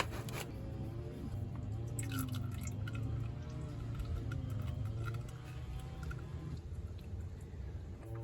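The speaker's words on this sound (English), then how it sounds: "Get ready to catch the excess oil that's going to come out." Engine oil dripping and trickling from the oil filter of a Nissan 370Z into a catch pan, faint and steady with small wet splats and squishes, no voices.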